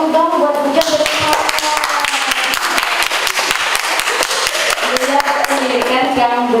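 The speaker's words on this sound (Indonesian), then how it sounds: "Kasih tepuk tangan buat Bujang bersama." Applause from an audience at a school teacher presentation: dense, steady clapping from many hands fills the whole stretch at close, loud level, with faint voices mixed in beneath.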